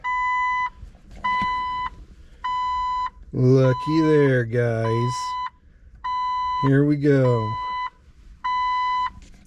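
Repeated electronic beeping from a Jeep Wrangler TJ car stereo in steady pulses, about six bursts of a bright tone, with someone talking briefly between and over them.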